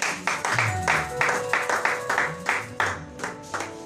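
A church congregation applauding the Lord, steady rhythmic clapping in even beats from a group, continuing for several seconds at moderate loudness.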